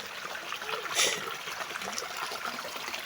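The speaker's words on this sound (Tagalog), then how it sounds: "Ikatulong tabok sapa." Shallow stream at Balingasaw Falls in Merida, Leyte, trickling and gurgling steadily while being crossed on foot, with a brief louder splash about a second in; no talking.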